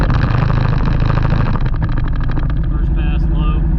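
A CFMoto CForce 600 ATV engine pulls hard at wide open throttle in low gear and two-wheel drive across an open field, a loud, close, rapidly pulsing mechanical drone that eases off near the end.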